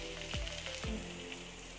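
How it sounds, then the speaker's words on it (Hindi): Ginger garlic paste sizzling in a pan as it browns, a steady soft frying hiss with a couple of brief stirring scrapes, close and fairly quiet. "सबसे पहले पैन में हम जिंजर गार्लिक का पेस्ट डाल लेंगे और इसको हल्का ब्राउन फ्राई करेंगे।"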